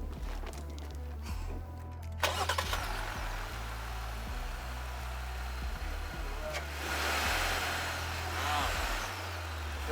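A V6 engine in an Apocalypse 6x6 truck cranks over and catches, then settles into a low, steady idle with a deep rumble.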